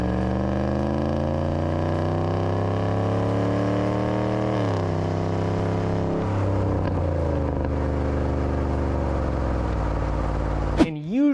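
A RAM 1500 pickup's 5.7L HEMI V8 burning oil idles steadily after startup, a smooth, loud droning hum that rises slightly in pitch before settling, ending with a brief sharp squeal-like sweep.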